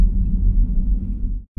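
Low scraping, hydraulic-sounding brake noise from a Ford Focus ST-Line Lommel X heard from inside the cabin at low speed, a steady muffled rumble that cuts off abruptly near the end.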